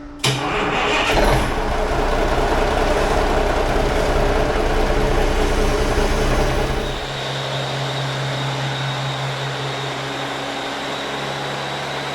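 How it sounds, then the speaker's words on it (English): A large Cummins engine runs loud and steady on a dyno with a broad roar, then the pitch drops and it settles into a lower, even drone. "it wasn't long for the engine to be put on the dyno"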